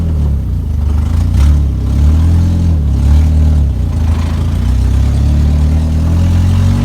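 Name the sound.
small vehicle engine running while driving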